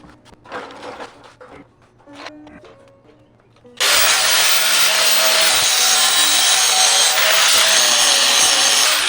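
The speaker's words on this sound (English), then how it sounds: "I could do better if I was grinding that from the other side" Grinding metal on a small-block Chevy engine run stand: after a few quiet taps and clanks, a loud, steady, harsh power-grinder roar starts abruptly and runs unbroken to the end, close by.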